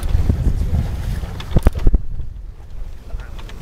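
Sailboat tacking in wind, with broadband wind and water rush, a few sharp knocks and flaps near the middle, then a sudden drop to a quieter lull as the boat comes about.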